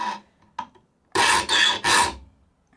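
A saw file rasps across handsaw teeth during sharpening, three firm forward strokes close up after a couple of lighter touches, each stroke a gritty metallic rub with short pauses between.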